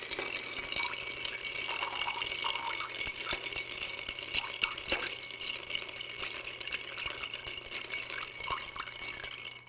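A cocktail stirred with ice in a mixing glass after bitters are added, giving a steady stream of soft clinks and watery rattling close by, continuous and fairly quiet.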